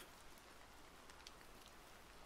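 Soft spring rain falls in the Flowscape video game, a faint, even patter of scattered drops, quiet and continuous throughout.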